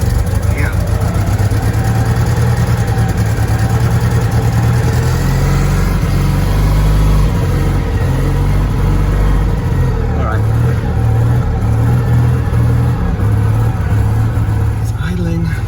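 A Citroen 2CV engine with a single-barrel carburetor idles on choke close by, a loud, steady low putter with a slight unevenness in its rhythm, and someone speaks briefly over it.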